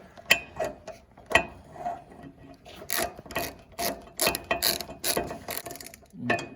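A hand ratchet clicks in quick, uneven bursts while bolts are tightened on a Briggs and Stratton small engine under repair, with sharp metallic ticks close by and quiet pauses between strokes.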